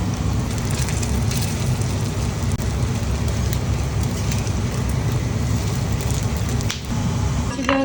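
Fish cutlets made as finger food for children sizzle and crackle loudly in a hot frying pan, a dense, steady spatter like heavy rain that continues without pause.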